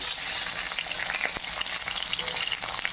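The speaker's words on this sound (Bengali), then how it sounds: "এই মাছগুলো ছেড়ে দিতে হবে এখানে খুব বেশি ভাজা যাবে না কারণ পমফ্রেট খুব ভাজলে স্বাদ আসে না হালকা করে ভেজে নিতে হবে" Pomfret fish, rubbed with salt and a little turmeric, fry lightly in oil in a pan, making a loud, continuous close-up sizzle and crackle with no voices over it.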